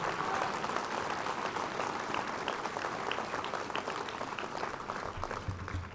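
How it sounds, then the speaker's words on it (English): Audience at a charter school commencement ceremony applauding graduates, dense clapping that gently tapers toward the end, fairly quiet and distant. "So I'd like to give you all a round of applause for a job well done."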